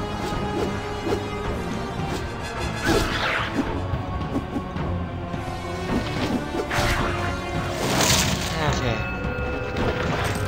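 A bow firing arrows at kobolds in Baldur's Gate: Enhanced Edition, with whooshing shots and crashing impacts layered over dense game noise and voices throughout.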